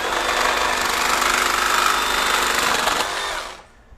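FLEX FX2241 24V brushless one-handed reciprocating saw cutting through PVC, a loud, steady buzzing rasp of the blade for about three and a half seconds before it stops abruptly and falls quiet.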